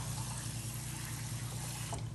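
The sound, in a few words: water rinsing cow skin in a container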